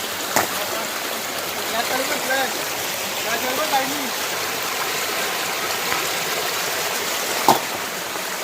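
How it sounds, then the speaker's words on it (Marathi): Steady rushing rainwater floods into a bathroom during a downpour, a constant splashing wash with a few faint knocks and brief voices in the background. "पूर्ण बाथरूममध्ये पाणी आलं तुम्ही बघितलात"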